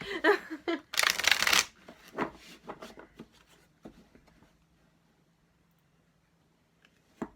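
A deck of cards is riffled and shuffled up close. A loud burst of fluttering is followed by softer taps and slides that fade into near silence, with faint laughter and a voice early on.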